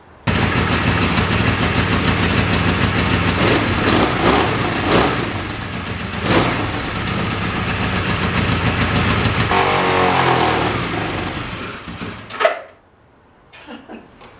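A carbureted Craigslist project motorcycle engine runs loud and steady with a rapid, rough firing clatter, revving in places, then cuts off abruptly near the end, leaving a quiet tail.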